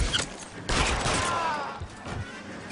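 Rapid gunfire in the L.A. Noire video game, several sharp loud shots in quick succession with ringing mechanical echoes, a voice briefly audible alongside.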